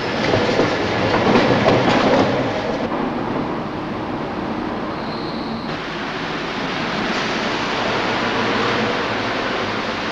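A Paris RATP metro train runs steadily with a continuous rumbling roar and rail noise, loud and close, shifting in tone partway through as the carriage moves along the track, with no voices.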